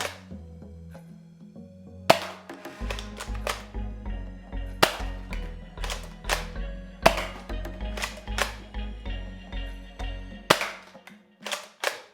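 Nerf Rival Kronos blaster fitted with a K25 spring mod, firing a series of sharp, loud snapping shots with irregular spacing, each followed by brief mechanical clatter from priming.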